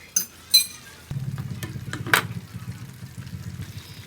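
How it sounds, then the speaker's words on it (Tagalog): A utensil stirs grated cheese through cooked whole-wheat spaghetti in a pan, starting with a couple of sharp clinks and then a steady, close, wet churning and scraping rhythm. "hinahalo ko na, hindi ko na nilalagay doon sa ibabaw ng pasta. Minimix ko na para talaga equal ang equal ang paglagay ng cheese sa spaghetti"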